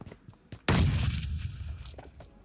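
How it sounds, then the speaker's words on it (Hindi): A single loud, booming blast from the battle royale game PUBG Lite follows a few faint taps, then rumbles and decays over about two seconds, with softer sounds trailing afterward. "गोली में ऊपर चला रहा हूँ लेकिन सारी की सारी इधर ही अटक गई"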